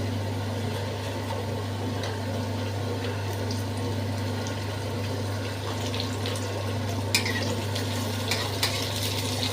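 Pumpkin goes into a pan of frying mixed vegetables, soft crackling sizzle and scattered pops over a steady low electrical hum, close by and continuous.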